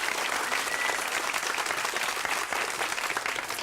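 A studio audience gives sustained, dense applause that carries evenly at moderate loudness for a few seconds, with no talk over it.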